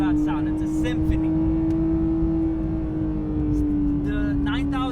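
A Porsche 992 GT3 engine holds a loud, steady high-rpm note heading toward its 9,000 RPM redline, with someone talking over it throughout.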